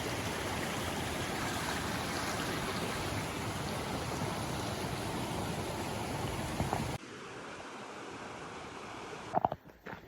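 A river runs with a dense, continuous rushing flow for several seconds, close and steady, before the sound cuts to a quieter, thinner background near the end.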